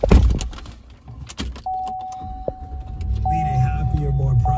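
Power windows on a 2017 Chevrolet 2500 HD truck whir in a steady electric motor hum lasting a few seconds, after brief clunks and thumps, with someone talking over it.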